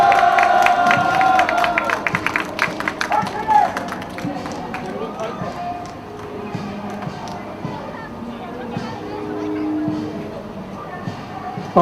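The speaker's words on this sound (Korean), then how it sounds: "여러분, 올해와 같은 박수 부탁드리겠습니다." A street rally crowd at a human-chain protest in Myeongdong claps and cheers, a dense outdoor wash of applause and voices with speech mixed in, fairly loud and continuous.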